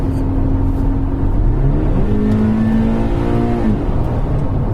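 A flat-four engine in an early-1980s car revs loudly, its pitch rising and then falling back in one sustained sweep over a steady mechanical drone, with no talking.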